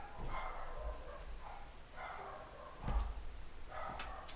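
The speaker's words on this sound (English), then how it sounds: "Sorry for the dogs barking in the background." Dogs bark intermittently in the background of a home, with several short, moderately distant yips and barks spread across the moment.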